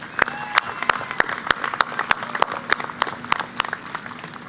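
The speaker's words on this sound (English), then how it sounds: "Can we have another round of applause for all of these amazing students?" A commencement crowd at a community college claps for graduating students, a dense burst of rhythmic applause with sharp individual claps standing out, lasting the whole moment.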